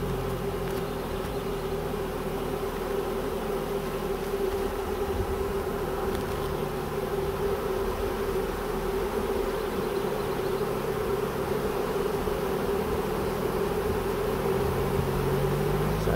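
Honey bees from a swarm fan at the entrance of a box, producing a dense, unbroken buzzing drone that stays close and even from start to finish with no voices.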